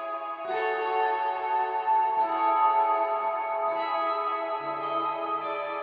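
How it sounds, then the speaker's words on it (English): Electric guitar run through heavy effects that add echo, reverb and chorus, holding sustained shimmering chords that shift a few times over a steady, fairly loud level. "Use a guitar sound like this."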